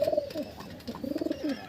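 Desi pigeons coo inside a loft, soft rolling calls repeating in short bursts close by, with no voices over them.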